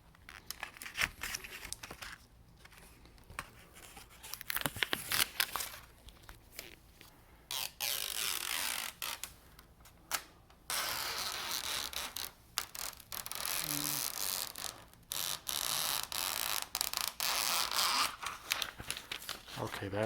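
Clear laser-printer transfer film is peeled off a wood surface in bursts of crackly, tearing crinkle, close and fairly loud, alternating with short pauses; no one speaks.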